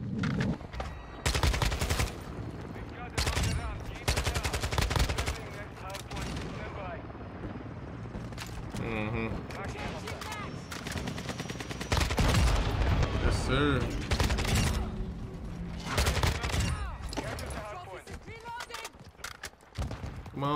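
Gunfire from Modern Warfare 2 with a Kastov-74U setup, rapid automatic bursts and scattered shots erupting repeatedly over twenty seconds, mixed with other game noise and a voice talking over parts of it.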